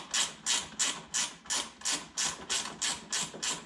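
A 10mm gear wrench ratchets in a quick, even series of about nine crisp clicking bursts, close and clear, while working bolts at the front grille of a 2013 Dodge Grand Caravan.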